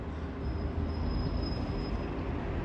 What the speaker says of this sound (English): this is just right here at the subway stop